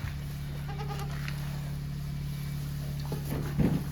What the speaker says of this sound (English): Some of our goats.